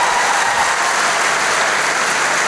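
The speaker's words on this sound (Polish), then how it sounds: "ogromne brawa dla tego T-Rexa" Loud, dense applause from a large audience at a festival talk session, steady wash of clapping with no speech over it.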